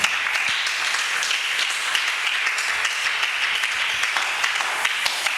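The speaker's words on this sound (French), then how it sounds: "Est-ce qu'on peut acclamer très fort le Seigneur Jésus?" A church congregation applauding loudly, dense sustained clapping from many hands filling the room without a break.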